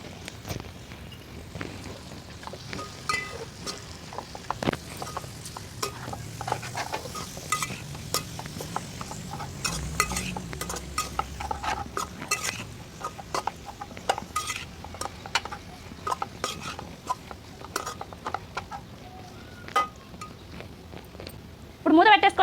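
Pieces of goat tripe fry in a pan for a gongura curry, giving a soft sizzle under repeated scraping stirs, occasional utensil clinks and a few footsteps in a quiet home kitchen.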